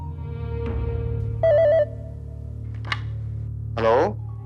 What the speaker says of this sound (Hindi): डॉक्टर गजेंद्र का फोन लग गया?